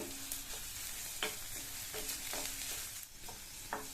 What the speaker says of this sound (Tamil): மறுபடியும் இதை வதக்கிக்கலாம்